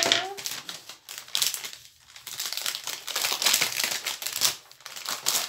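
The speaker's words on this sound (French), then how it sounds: "Donc, je la remets dans mon emballage." Plastic packaging crinkled and handled close by, continuous rustling and crackling in uneven bursts with brief quieter gaps.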